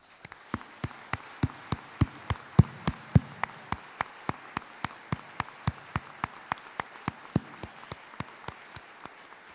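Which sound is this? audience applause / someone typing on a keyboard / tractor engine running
audience applause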